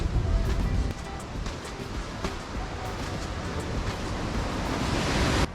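Ocean waves wash up the shore at Puerto Vallarta, a steady broadband roar of surf close by, with wind buffeting the microphone throughout and no voices.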